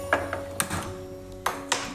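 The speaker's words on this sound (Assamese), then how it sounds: "এতিয়া মই গেছটো অন কৰিম" A gas stove is switched on with a few sharp clicks and pings from the igniter and knob, close by and scattered across two seconds over a low hum, with no talk.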